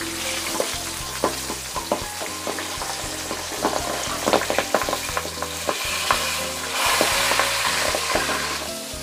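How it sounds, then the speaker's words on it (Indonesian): Milkfish coated in wheat flour frying in hot oil, a continuous loud sizzle with crackling pops and occasional stirring clatter, close up and uninterrupted by speech. "Jadi itu triknya menggoreng ikan supaya tidak meletup-letup, harus dikasih tepung terigu."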